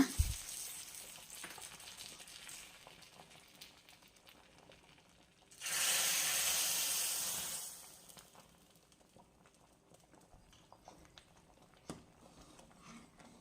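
Hot tempering poured into drumstick sambar gives a loud burst of sizzling for about two seconds, standing out from quiet stirring and faint kitchen clatter before and after.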